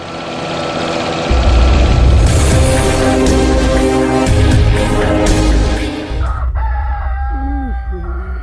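A rooster crows loudly and close, a long drawn-out call over an engine rumble, followed by softer clucking.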